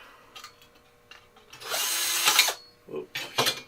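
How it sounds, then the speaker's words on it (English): A power drill drilling out a rivet on a projector lamp cover whirs in short bursts, then runs in one sustained grinding stretch before stopping, with a couple of brief whines after. "Maybe I didn't drill it quite enough."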